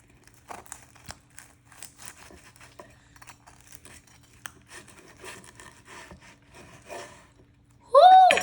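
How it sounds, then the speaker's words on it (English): A knife saws through a fried cheesesteak egg roll, giving a run of soft, close crinkling and crackling crunches with small scrapes, then a sudden louder burst at the end. "I'm gonna cut the egg roll in half."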